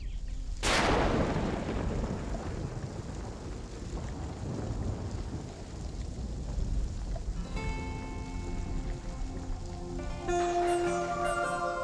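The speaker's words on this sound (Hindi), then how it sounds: "मुंबई की पहली बरसात" Rain pours down in Mumbai as a constant heavy wash. A sudden sharp crack like thunder comes early on, and soft music rises underneath toward the end.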